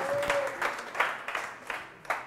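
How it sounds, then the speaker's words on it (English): Audience applause at a conference, a short scattered round of clapping from a crowd, moderately loud with uneven claps standing out before fading. "Can we give him a round of applause that will reach all the way to South Africa, please?"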